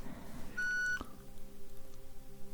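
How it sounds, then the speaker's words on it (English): A single short, pure electronic hearing-test beep, steady and clear, sounds once against a quiet hum, then silence. "And now the final individual beep."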